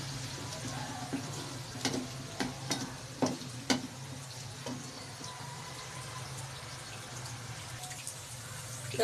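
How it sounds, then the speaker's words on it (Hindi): Onions frying in a pot, a steady close sizzle broken by a few scraping clinks of a stirring spoon early on, then settling into an even hiss with no one talking. "प्याज को अच्छी तरह फ्राई करेंगे। प्याज थोड़ा सा और ब्राउन करेंगे।"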